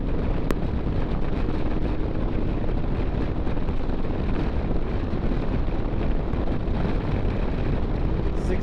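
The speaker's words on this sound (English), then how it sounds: "And the wind noise is something." Steady, heavy wind buffeting a microphone while riding in sixth gear through New Orleans' French Quarter: a constant low roar and rumble with no pauses, loud and close throughout.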